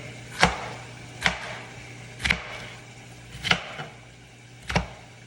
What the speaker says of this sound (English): We're gonna take these green peppers. We're gonna slice these down.